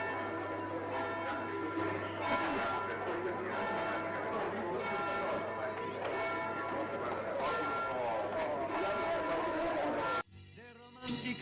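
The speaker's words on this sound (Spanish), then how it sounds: "Ahora estamos escuchando las campanas de las iglesias." Church bells of Venice ring continuously over a busy outdoor murmur, fairly distant and layered, ending abruptly.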